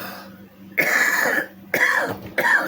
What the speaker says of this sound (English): always coughing